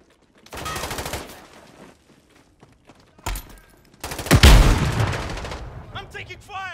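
Bursts of gunfire in Call of Duty: Modern Warfare, a short volley early on, a sharp crack midway, then a louder sustained burst with a heavy boom, set against quieter gaps.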